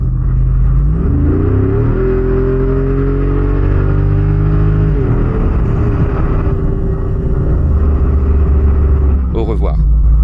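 The engine of a Jeep Wrangler Rubicon 392 Final Edition rumbles loudly from inside the cabin while driving, its deep drone rising and falling in pitch as it revs and shifts, with no talking.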